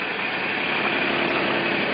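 A Kubota tractor engine runs steadily while pushing gravel with a snow plow blade on a road. The engine drone is constant and fairly loud for the whole stretch, with no talking.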